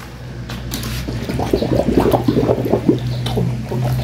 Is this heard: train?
no